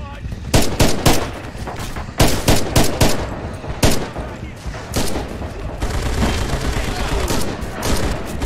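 Bursts of machine gun fire in the WWII shooter Red Orchestra 2, loud sharp rattling volleys coming in clusters and then a denser sustained barrage, with a voice speaking faintly beneath.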